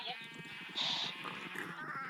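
Minecraft sheep bleat in quavering, wavering cries, one louder call standing out, over a busy game background with faint murmuring.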